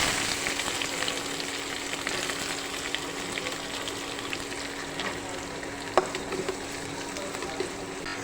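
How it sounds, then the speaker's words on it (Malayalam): Chopped onions sauté in oil with cinnamon, cardamom and cloves for an egg curry, giving a steady close sizzle with faint stirring and one sharp tap against the pan near the end. "സവാള നല്ലതുപോലെ വഴറ്റിയെടുക്കാം."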